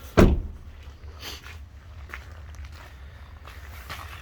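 Footsteps circling a Mercedes Sprinter 314 Maxi van: a sharp thump at the start, then soft, irregular steps at moderate distance over a low background hum.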